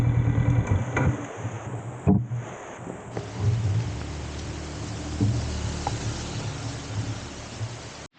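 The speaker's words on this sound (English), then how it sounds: "The rain was getting heavier and heavier, so we made an emergency stop" Heavy rain pours down during an emergency stop on a soaked, muddy mountain road in Mae Hong Son, Thailand, a steady broadband hiss under a low idling engine rumble, with a few thuds and knocks near the start.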